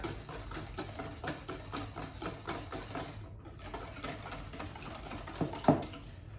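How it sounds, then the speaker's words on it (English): Egg yolks and sugar are whisked together in a bowl for crème brûlée, giving a steady, rapid ticking rhythm of whisk against the bowl that continues throughout, close by and moderately quiet, with one sharper knock near the end. "then you whisk everything together"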